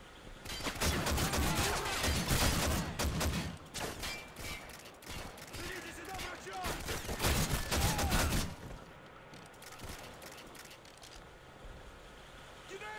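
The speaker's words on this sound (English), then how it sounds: "This shotgun weapon works like an absolute treat against Juggernaut" Shotgun blasts in Call of Duty Modern Warfare 3 Survival Mode on the Boardwalk map, fired rapidly in a dense stretch of shots, then fading into quieter game noise as someone talks throughout.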